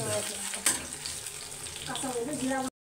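Garlic frying in oil in a pan for a home-cooked katla fish and bean-seed curry: a steady, close sizzle with a sharp clink partway through, and a voice faintly present near the end.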